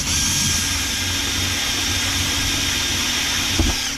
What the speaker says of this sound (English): We're just gonna drill this all out here.